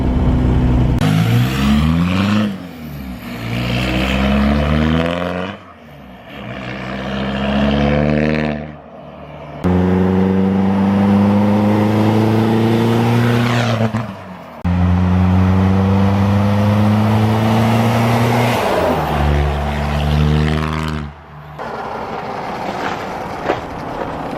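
A Toyota truck's swapped TDI diesel engine revs up repeatedly, climbing in pitch and then abruptly cutting out around 3,500 rpm, several cycles with brief quiet gaps between, loud and close.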